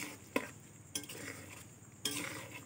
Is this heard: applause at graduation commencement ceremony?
no